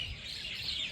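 Birds chirping and tweeting steadily over a low outdoor rumble, moderately close, no voices.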